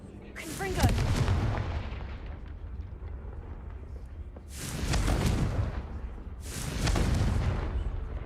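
Three heavy Confringo blast-spell explosions from the video game Hogwarts Legacy, each a sudden booming burst that fades into a long rumbling tail, spaced a few seconds apart.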